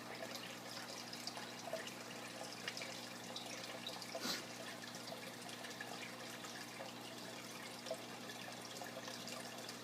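Water runs through a DIY PVC overflow on a turtle tank, fed by a pump at half speed, a soft steady trickle and gurgle with a brief louder splash partway through.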